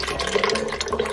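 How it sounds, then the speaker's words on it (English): Water splashes and gurgles as it is poured into a small container holding oil and honey, a brief close liquid rush. "We'll just add some water to this and wash it out of this little container into there."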